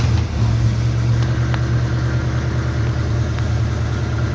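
A 1962 Chevy Nova's engine started with the key, running loud and close as a steady low idle with a rich rumbling drone throughout.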